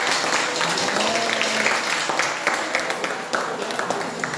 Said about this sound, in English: Let's give the Lord a big round of applause.